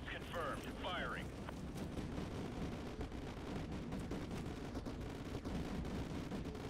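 Artillery strike in Call of Duty Modern Warfare 2, a continuous rumbling barrage of distant booms and crackling blasts rolling on for several seconds, with a brief synthetic radio-like tone near the start.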